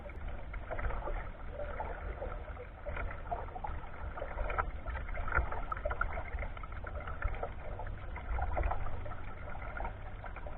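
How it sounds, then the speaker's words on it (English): Kayak paddles dipping and stroking through water near a boat ramp heading toward a creek mouth in Melbourne, Florida, with steady splashing and trickling under a constant low wind or water rumble, no voices. "we started paddling toward Cane Creek"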